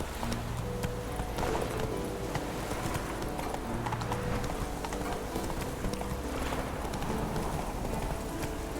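Geralt's horse Roach galloping in The Witcher 3, a steady rhythmic clip-clop of hooves at speed, close and continuous, with ambient game sound and a faint voice beneath.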